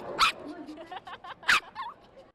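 A few short dog barks and yips, fairly close, from shelter dogs at a Broadway adoption benefit event, with quieter whimpering sounds between the louder barks.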